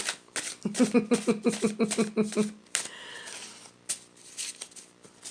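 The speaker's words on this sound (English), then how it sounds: "These are just kind of hard to shuffle." Card shuffling with a quick run of riffling clicks, close by, followed by softer handling rustles and brief murmured talk.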